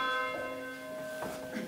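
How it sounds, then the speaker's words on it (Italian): A church bell rings alone, a faint, sustained metallic tone with lingering overtones; the bell had been tied up for five years. "Senti, è la campana che è rimasta legata per 5 anni."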